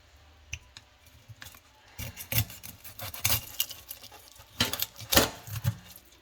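A knife cuts the head off a bream panfish during cleaning, with crunchy snips and scraping crackles in uneven clusters that grow denser and louder toward the end. Close and alone, with no talk.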